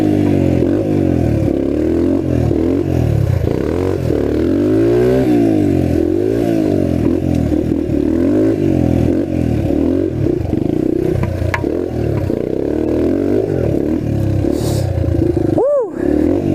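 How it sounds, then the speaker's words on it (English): A trail bike motorcycle rides on North Carolina trails, its engine droning loud and close with repeated rising and falling revs, plus rattles and clatter from rough ground. "it feels good to be back on a bike"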